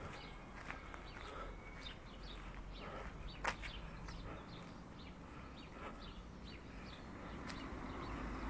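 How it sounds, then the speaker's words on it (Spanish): Scattered bird chirps and tweets ring out along an outdoor trail near Los Molinos, faint and intermittent over a rustling background with a few footstep-like scuffs. "Muchos pájaros."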